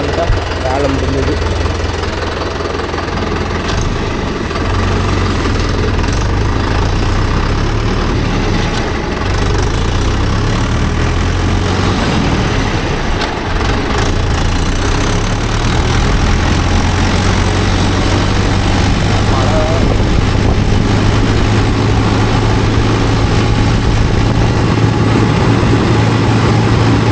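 A Mahindra Yuvo Tech Plus 585 DI tractor engine runs steadily throughout, a continuous mid-low rumble with a knocking idle texture, fairly loud and close, while voices talk over it.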